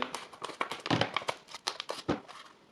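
Scissors of a SOG Flash MT multitool snipping paper, a rapid series of crisp crinkly cuts and rustles in irregular bursts, close and fairly loud with no talk.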